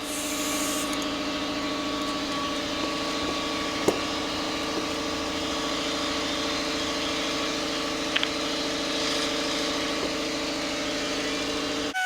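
A handheld air grinder strips galvanized zinc coating off metal framing pieces before welding a patio roof, giving a steady, unbroken mechanical whine and hum with a couple of brief clicks and no voices.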